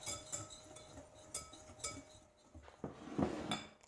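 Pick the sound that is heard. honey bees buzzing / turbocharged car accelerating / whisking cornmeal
whisking cornmeal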